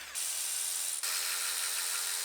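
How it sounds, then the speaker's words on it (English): A power tool whirs steadily while unbolting the wiring harness and ignition coils on a Kia Sorento engine, a continuous close drive with a brief break about one second in, no speech. "And start unbolting the lower wiring harness."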